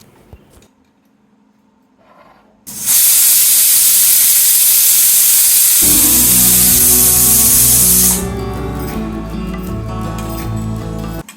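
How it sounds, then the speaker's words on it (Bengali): Running water pours in a loud steady hiss over thankuni (pennywort) leaves being rinsed, then continues more softly beneath clinking and bumping kitchen sounds, close by. "জল দিয়ে ভালো করে ধুচ্ছি কারণ এইসব শাক পাতাতে অনেক ময়লা অনেক বালি থাকে"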